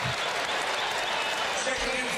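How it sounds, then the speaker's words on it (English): A college basketball crowd at a Marquette home game against Buffalo gives a sustained standing ovation, dense loud applause and cheering from a packed arena that holds steady throughout, with a commentator's voice faintly under it. "listen to this crowd give their star a hero's ovation"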